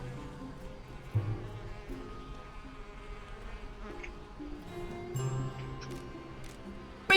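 Insect-like buzzing of bees in the video game Elroy and the Aliens: a steady, close drone that holds for several seconds, swelling slightly near the middle and end, with no one talking.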